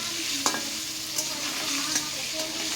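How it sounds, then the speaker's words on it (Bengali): Potatoes with turmeric and salt frying in oil, a low steady sizzle with a few soft scrapes as they are stirred, quiet and close. "এটা একটু নেড়ে নিব। আলু ভাজা পর্যন্ত ওয়েট করব।"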